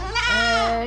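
Goats on a French livestock farm give a single loud, close, drawn-out bleat with a wavering, nasal tone lasting under a second, heard alone without talk.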